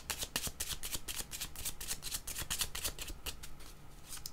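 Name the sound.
shuffling and drawing tarot cards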